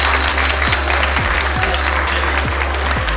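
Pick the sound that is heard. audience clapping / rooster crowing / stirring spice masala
audience clapping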